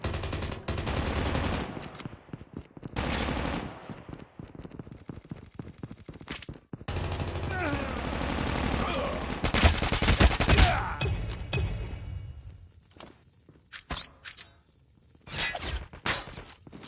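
Suppressed M4 assault rifle fire in a Call of Duty Mobile team deathmatch on the Crash map, with repeated bursts of rapid muffled shots, impacts and other game effects in a dense, loud mix, briefly quieter near the end.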